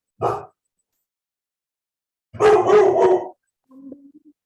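A dog barks indoors in short bursts: one sharp bark, a pause, then a longer run of barks, ending with a few soft whimpering yips. No one speaks.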